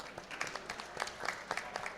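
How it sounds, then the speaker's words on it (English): An audience at a COP 27 panel session on regenerative food systems gives scattered, fairly quiet applause, a loose patter of separate claps from a modest crowd rather than a dense roar. "Round of applause for Marilyn, please."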